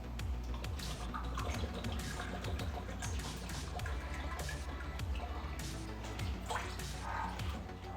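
Water poured into a pan for a sugar syrup with orange peels, a steady continuous pouring and trickling wash that runs throughout, fairly close and unbroken, with no talk over it.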